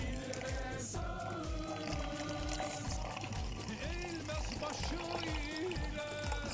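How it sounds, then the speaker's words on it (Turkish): Boiled, cooled water pours steadily into a container for bathroom and toilet cleaning, a continuous close trickle and splash lasting several seconds, with faint background noise. "suyumuzu da koyuyoruz."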